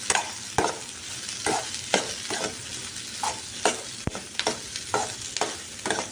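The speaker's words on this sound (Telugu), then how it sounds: "దాంతోపాటుకే మనం టమాటా ముక్కలు కూడా వేసుకుందాం. ఇలా అన్నీ వేసుకొని మిక్స్ చేయాలండి." Tomato pieces being stirred and fried in a curry gravy for a Dhaba-style kaju paneer masala curry, with repeated scraping strokes of a spoon over a steady sizzle, close and moderately loud.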